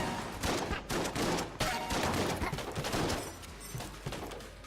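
Dense, continuous rapid gunfire and bullet impacts in the video game Enter The Gungeon, loud and unbroken throughout with sharp bursts layered over a constant roar of shots.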